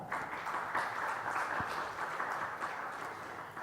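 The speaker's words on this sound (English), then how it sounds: "Let's have a round of applause." Steady, moderately loud applause from an audience at an affiliate summit opening session, continuous throughout without clear breaks or speech.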